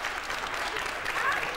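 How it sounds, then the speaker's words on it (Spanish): Studio audience applause at a televised tribute to a singer, a brief, dense, even wash of clapping at moderate volume throughout. "vamos a darle un aplauso, que lo ha hecho muy bien"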